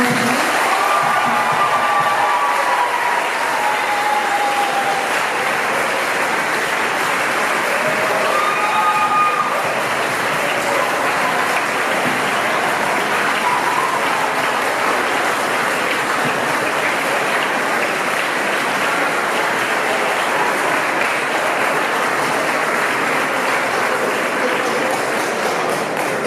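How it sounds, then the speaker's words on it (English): An audience gives a final sustained round of applause for a panel of former women mayors at an alumni weekend, dense steady clapping with faint cheering that carries on evenly throughout. "Can we have one final round of applause for all of our panelists?"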